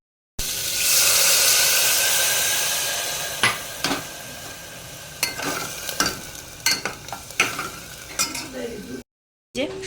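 Potatoes fry in a pan for aloo dum, a steady loud sizzle fading slowly, then broken by a series of sharp scraping stirs and clinks of the utensil against the pan.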